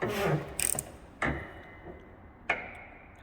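Top bolts on a Land Rover Defender 90's shock absorbers being tightened, with a few sharp metallic ratchet clicks spaced apart over a dull background, close and moderately loud.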